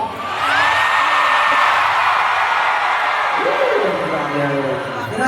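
A concert crowd at a world tour show in Singapore shouts and whoops loudly on request, a sustained roar of many voices that fills the whole stretch.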